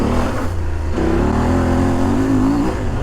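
A CFMOTO 800MT-X adventure motorcycle accelerates off-road in second gear, its engine note droning steadily and climbing in pitch as it pulls from low revs, close and loud with no talk.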